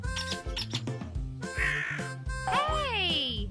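A small cartoon bird squawks and caws in short, sharp cries, then lets out a rising, warbling call, mixed in with lively animated voices.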